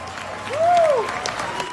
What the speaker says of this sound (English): Listen to these people cheering this nonsense.